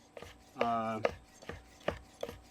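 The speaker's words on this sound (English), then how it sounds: "You just want to keep chopping until you're left with almost ground beef." Knife chopping sea robin fish flesh finely on a board, a handful of close, distinct thuds and scrapes in an uneven rhythm with one longer rasping stroke, no talking.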